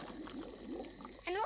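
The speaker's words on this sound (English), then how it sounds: "My tummy rumbling is one of the best sounds of nature." A stomach rumbles with a low, bubbly gurgling that churns steadily and ends in a sudden squeaky, rising gurgle.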